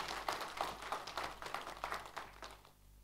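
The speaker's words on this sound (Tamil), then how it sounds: "அந்த ஆளுமைக்கு நிச்சயமாக ஒரு கரகோஷம் கைத்தட்டல் வழங்கித்தானாக வேண்டும்." An audience at a Capital FM event claps in a run of quick, fairly faint applause that thins out and fades near the end.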